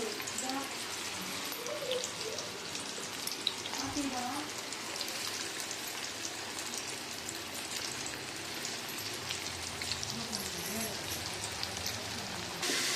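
Corn flour snacks fry in hot oil with a steady, dense sizzle that crackles evenly throughout, close and continuous with no pauses.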